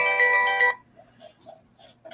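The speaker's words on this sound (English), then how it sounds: "getting phone calls from random people that don't know I'm live" A phone ringtone plays loudly inside a car during a live stream. The bright electronic melody lasts under a second, then cuts off, leaving faint scattered sounds.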